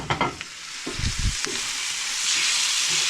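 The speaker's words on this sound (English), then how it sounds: "I'm going to add the tomatoes, which are roughly chopped" Roughly chopped tomatoes hit a hot, slightly burning frying pan for shakshuka, giving a few close clattering stirs and thumps before settling into a steady, loud broadband sizzle that fills the rest of the moment.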